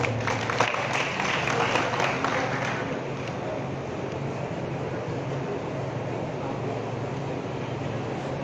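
Audience applause at a district Congress party political meeting, a dense wash of clapping that is strongest in the first three seconds and then settles into steady crowd noise.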